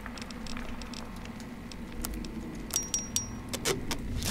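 In Fallout New Vegas a storage key is picked up, giving a short metallic jingle of a few light clinks over a steady low game ambience, with no talking.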